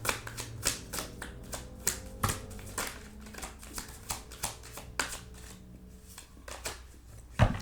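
Tarot cards are shuffled by hand in a quiet room, a rapid series of crisp riffling and snapping bursts repeating steadily at close range, with no speech.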